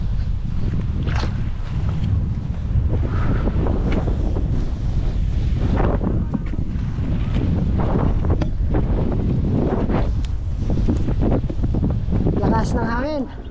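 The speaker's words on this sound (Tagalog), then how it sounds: "Lakas ng hangin." Strong wind buffeting the microphone in loud, continuous gusts, with watery sounds in the background and a few brief voices.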